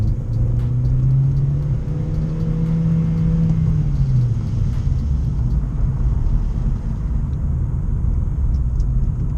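A Vauxhall Corsa with a Cobra Sport exhaust roars loudly up through first gear, the engine note climbing steadily before settling into a continuous heavy rumble.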